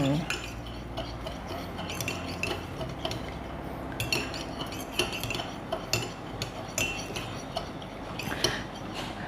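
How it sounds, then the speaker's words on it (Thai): A spoon stirs hot cocoa sweetened with coconut sugar, sending a run of quick, close metallic clinks and scrapes against the cup in an irregular rhythm, with no talking. "คนให้เข้ากัน"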